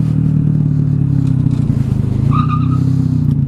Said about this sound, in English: Super high flow, super quiet exhaust.